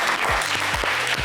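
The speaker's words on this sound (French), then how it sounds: "Allez, on vous applaudit" Brief burst of clapping from a small studio audience on a French magic-chest TV game show, steady and fairly close, with a few low thumps underneath.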